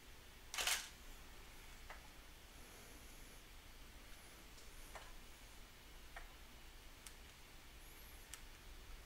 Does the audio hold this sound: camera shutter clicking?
yes